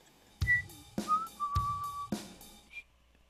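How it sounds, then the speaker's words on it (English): A person whistles a song's outro melody in a few short, clear phrases with soft breathy onsets and a final brief high note, close and fairly quiet. "So I'm working on the whistle."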